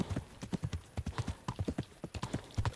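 Horse hooves in the medieval video game Kingdom Come: Deliverance clatter in a quick, uneven clip-clop, a steady run of close, sharp hoofbeats with no talk over them.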